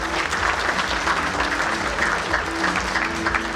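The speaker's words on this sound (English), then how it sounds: "Big round of applause for Naresh Khanna." Sustained applause from an audience at a print industry summit, dense steady clapping filling the room throughout with no break and a faint crowd murmur underneath.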